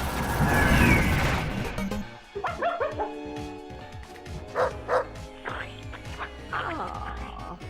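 The Duck Hunt dog from the movie Pixels barks in a series of short, bright yips and woofs, several spaced bursts after a louder noisy opening, fairly close.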